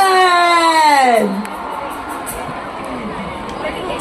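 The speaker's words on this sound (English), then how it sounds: "Cheering, dekha" Crowd at a 2024 stage event cheering and whooping loudly as a celebrity is introduced, a dense roar of voices under a host's amplified, echoing announcement that then eases into lower crowd murmur.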